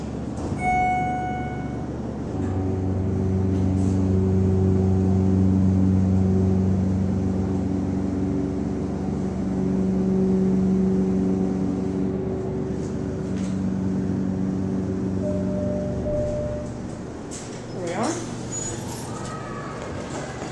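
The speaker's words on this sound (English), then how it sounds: "now we're gonna hear the motor on our way up to the second floor" A Schindler scenic elevator motor at a shopping center hums steadily with low tonal drones while the car rises to the second floor, the whine shifting in pitch near the end before a brief clatter.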